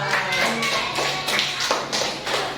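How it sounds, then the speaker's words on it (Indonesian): A classroom group claps hands in a loud, uneven patter of overlapping claps, with some voices mixed in. "Tepuk tangan."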